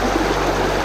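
Turbulent water rushes steadily through a gold sluice at a riverside camp on the Ticino, a close, continuous hiss and gurgle with no pauses.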